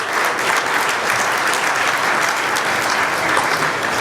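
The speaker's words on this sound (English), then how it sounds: "let's give a little round of applause to Miami for making all this happen." Audience applause at the 2009 Online Journalism Awards ceremony: a steady, dense wash of clapping that holds at an even level for about four seconds, with no voices over it.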